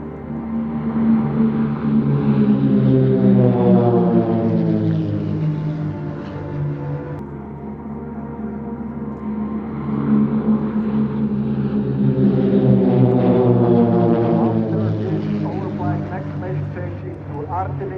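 Aerobatic display jets fly in Delta formation at the RAF Cosford Air Show 2025. Their engine roar swells, fades and swells again as they pass, with a voice heard over it.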